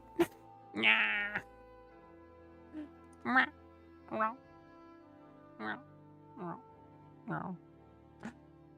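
A cat meows repeatedly in short, evenly spaced calls, about eight in a row, clear and fairly close against a quiet room.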